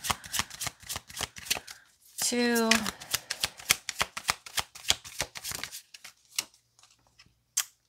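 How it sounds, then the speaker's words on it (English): Tarot cards are riffled and shuffled by hand in quick, crisp flicks, a rapid run of sharp ticks close to the listener, with a brief stretch of fluttering riffle and a single spoken word near the start. "We'll do 3 shuffles."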